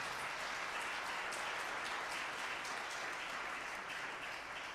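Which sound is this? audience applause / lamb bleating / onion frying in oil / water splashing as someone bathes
audience applause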